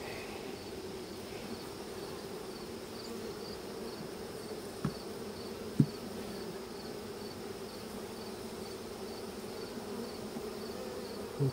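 Honey bees buzzing around an opened hive during a hive split, a steady continuous hum with a few faint knocks and clicks of handling.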